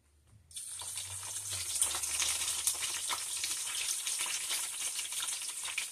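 Seasoned fish, rubbed with oregano, sofrito, sazón, adobo and a little salt, lands in a hot pan and starts a loud, steady sizzle. The crackle holds even and close for several seconds, with no talking over it.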